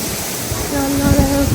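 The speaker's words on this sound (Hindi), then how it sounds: "कितनी ज़्यादा हवा से बारिश आ रही है।" Hurricane Francine brings wind-driven rain in a loud, dense, continuous roar of rushing wind and pouring water with a faint tonal whine. A person's voice comes through partway.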